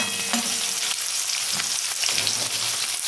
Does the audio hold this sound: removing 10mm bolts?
no